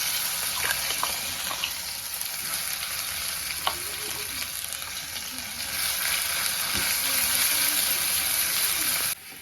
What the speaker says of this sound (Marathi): आपण मिश्रण बारीक केले ते आता हे तेलामध्ये टाकून घ्यायचं आपल्याला